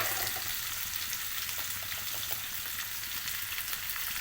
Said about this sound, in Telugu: ఉల్లిపాయలు వేసుకొని కొంచెం సేపు మగ్గనివ్వాలి.